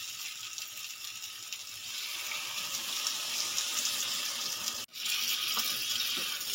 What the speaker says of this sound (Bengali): এখানে অল্প পরিমাণে জল দিলাম।